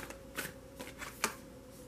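A tarot card deck is shuffled nearby in a few quick, soft riffling bursts spaced through a short quiet moment, with no speech.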